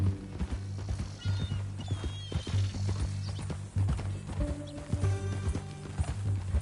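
A horse's hooves clip-clop steadily at close range, with a brief whinny, under a low rumbling background hum.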